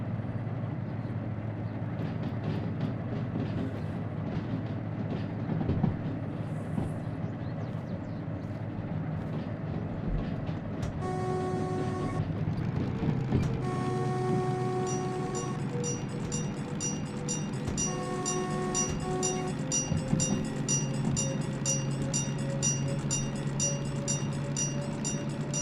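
A DM3 diesel locomotive in the game Derail Valley hauls a heavy train, a steady low engine drone with rolling rumble, later joined by rhythmic clinks and tonal chimes.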